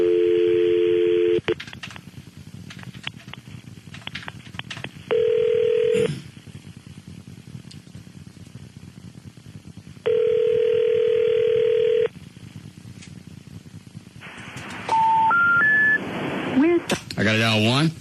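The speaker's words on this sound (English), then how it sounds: "Can I dial out on one of the studio lines?" A radio studio phone line gives repeated bursts of steady dial tone with gaps between them, then a quick run of rising keypad dialing beeps near the end, with people talking in the background.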